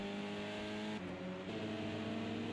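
A racing car engine in a sim racing game, a touring car on Le Circuit Bugatti, drones loud and steady with a shifting pitch, as if another car is being lapped nearby.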